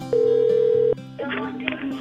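Dialing a telephone to reach a fan: a steady electronic tone holds for almost a second, followed by a brief blip, then a voice picks up over a faint line.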